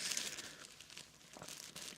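Paper crinkles and rustles as an item is slid out of a paper sleeve, a quiet, close, continuous crackling lasting about two seconds with no talking.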